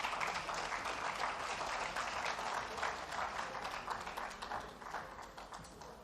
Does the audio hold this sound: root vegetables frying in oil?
no